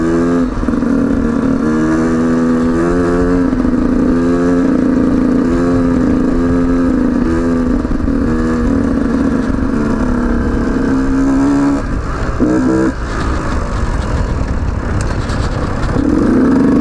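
A 2019 Beta 125 RR Race Edition motorcycle runs loud and close throughout. Its two-stroke engine drones and rises in pitch through repeated revving and gear changes, with a short dip near the end before it picks up again.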